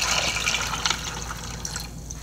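About a litre of water is poured into a small pot holding corn on the cob, giving a steady, close splashing hiss.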